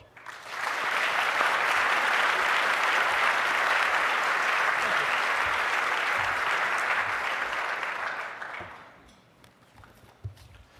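An audience applauds to welcome Rahul Bhardwaj at a Canadian Club talk in Toronto, a dense sustained burst of clapping lasting about eight seconds before fading out.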